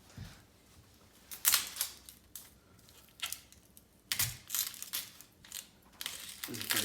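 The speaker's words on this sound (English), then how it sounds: "I thought my knife was sharp, but I'm just kind of doing a controlled slice" A knife slices through a large onion on a cutting board in a few separate, crisp crunching cuts spaced a second or two apart, heard close with quiet pauses between.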